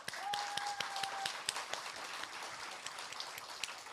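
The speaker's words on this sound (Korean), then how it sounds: "우리 환영의 박수 한번." A church congregation claps in steady welcoming applause, many hands patting together, with a brief tone ringing faintly at the start.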